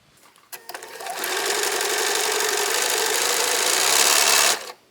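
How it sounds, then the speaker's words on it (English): Sewing machine running steadily along a quilt seam, a loud, close, continuous motor whir with rapid needle chatter that starts after a few clicks and holds for about three and a half seconds before stopping. "rip that out and now just sew this seam again"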